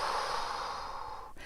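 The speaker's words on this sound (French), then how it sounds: "vous allez tout simplement souffler" A long, steady exhaled breath blown out during a breathing exercise, close and breathy, fading off with a brief catch at the end.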